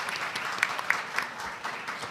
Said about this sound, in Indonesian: Boleh kita beri tepuk tangan yang meriah terlebih dahulu.